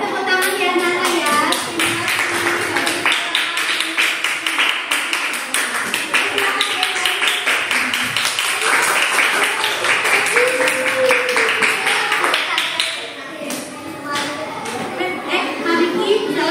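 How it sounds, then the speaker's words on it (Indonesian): Children in a school classroom clap their hands in a rapid, scattered patter that runs on for a while beneath an adult's ongoing talk. "Boleh tepuk tangan ya anak-anak ya."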